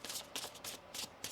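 Tarot cards are shuffled in several quick, soft riffling bursts that come close together, faint and near, with no voices over them.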